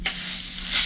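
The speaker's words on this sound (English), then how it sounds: "now we got some maracas" Maracas, Colombian percussion, shaken in a short burst of dry, rattling hiss that swells at the start and again near the end, close and fairly loud, with no voices.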